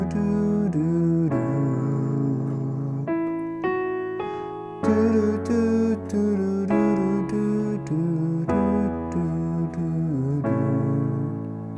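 Piano accompaniment for a song, with a measure of pickup notes leading into steady sustained chords, played close and alone with no voices.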